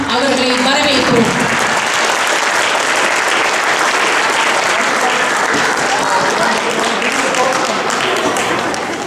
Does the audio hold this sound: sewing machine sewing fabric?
no